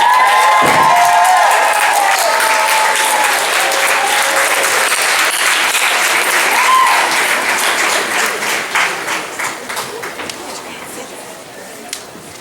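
Sustained applause from a commencement crowd honoring graduates, dense and loud at first, then thinning and fading toward the end, with a brief voice near the start and scattered cheers.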